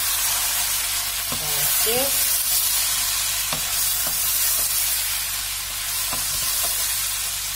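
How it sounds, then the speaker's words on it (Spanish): Rice stirred and lightly fried in a pan for a vegetable-only green rice dish, a steady sizzle with several scraping stirs of a utensil, and a brief spoken word near the end. "sofreír un poquito el arroz"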